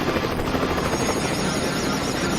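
A helicopter's steady rotor roar fills the whole stretch, loud and continuous with a rapid thumping texture and no voices.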